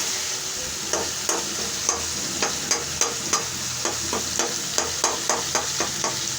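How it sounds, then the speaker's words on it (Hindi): Masala for a potato and egg curry frying in a pan over a high flame, a constant bright sizzle broken by a regular run of sharp, close stirring taps against the pan. "अब इसको अच्छे से भून लेंगे मसाले को"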